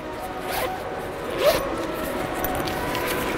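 A zipper on an IKEA bag being pulled closed in a store, a couple of quick rasping zips up close with a louder pull in the middle and steady background noise.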